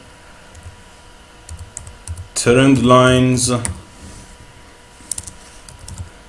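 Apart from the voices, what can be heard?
typing on a computer keyboard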